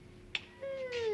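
A kitten meows indoors, a short chirp followed by a longer, rising and falling meow, close and clear with no talking.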